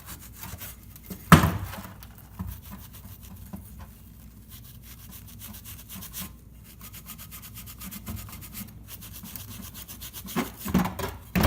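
A Scotch-Brite pad scrubs the clip seats on a Dodge Nitro brake caliper bracket, giving a steady, fairly quiet rasping rub with a couple of louder knocks near the start and end. No one speaks.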